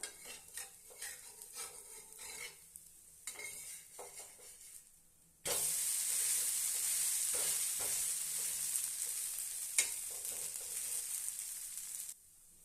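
A sorghum dosa sizzles loudly on a hot pan, a steady hiss that starts abruptly partway through after quieter scraping and kitchen clatter, then fades near the end.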